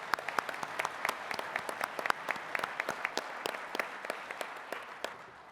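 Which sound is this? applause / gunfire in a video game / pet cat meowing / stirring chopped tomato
applause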